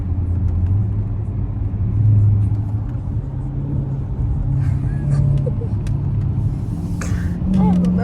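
Dodge Challenger Scat Pack engine rumbling as it downshifts through the paddle shifters, a steady low drone with brief swells in revs, heard from inside the car with faint voices in the background.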